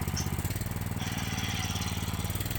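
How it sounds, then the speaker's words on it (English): A Honda GX390 small engine runs steadily with its governor still fitted, a fast regular chugging pulse at a near, constant loudness throughout, with no talking. "this was the engine running"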